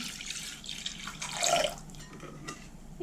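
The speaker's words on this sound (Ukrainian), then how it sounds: "До дріжджів з цукром додаю тепленьке молочко." Warm homemade whole milk is poured into yeast and sugar, a short soft liquid splash and trickle heard close up in a quiet kitchen.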